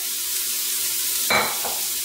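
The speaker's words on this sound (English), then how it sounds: "here is where we're going to go in with all the stems of the Swiss chard." Swiss chard stems hit hot oil in a pot with a sudden loud burst of sizzling over a steady frying hiss, then settle back into the continuous crackle.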